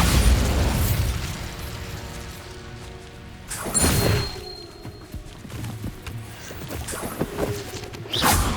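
Bombarda spell explosions in Hogwarts Legacy, a heavy blast at the start followed by two more sharp booming bursts with crumbling debris, loud and close.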